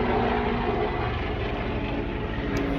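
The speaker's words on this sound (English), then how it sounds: "hold on for the helicopter to pass" A helicopter passes overhead on Memorial Day, a broad steady roar of rotor and engine noise that holds at a constant moderate level with no talk over it.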